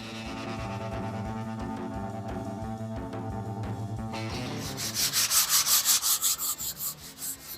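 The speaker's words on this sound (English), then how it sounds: "now I'm sanding these things to get them ready for paint" Steady rhythmic sanding strokes on primed metal radiator brackets, the scraping growing louder and more pulsing toward the end, with no voices.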